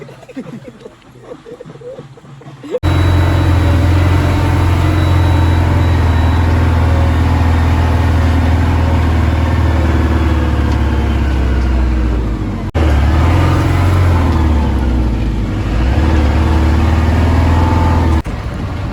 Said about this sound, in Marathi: आता आपली गाडी मुंबई गोवा महामार्गावर लागलेली आहे